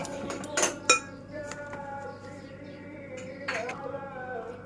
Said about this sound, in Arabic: انا قلبتها كويس اهو بالمعلقة